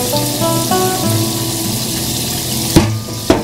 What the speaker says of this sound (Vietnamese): chứ đi mình xả nước lạnh trước các bạn